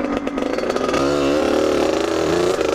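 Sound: motorcycle engine running after push start

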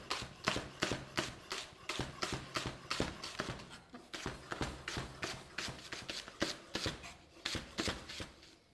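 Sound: knife slicing tempeh into fine pieces

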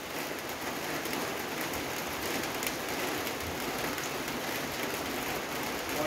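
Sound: rain falling

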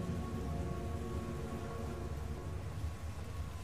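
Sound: heavy rain

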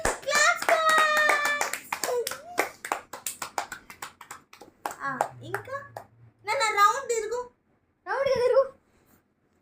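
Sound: child clapping hands

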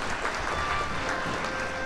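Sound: audience applause at festival opening ceremony

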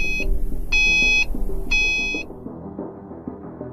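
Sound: Mercedes-Benz GLE Parktronic parking sensor warning beeps

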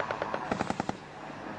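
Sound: gunfire shooting at aircraft in Falklands war footage

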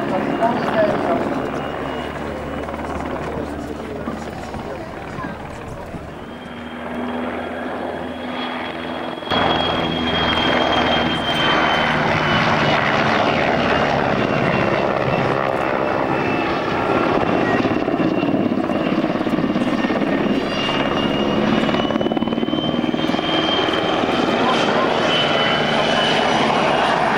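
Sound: PZL W-3A Sokol helicopter flying at air show

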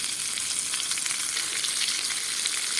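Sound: onion balls frying in oil

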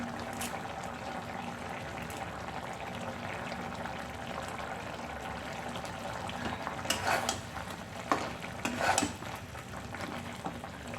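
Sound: chicken curry frying with green chilies and curry leaves

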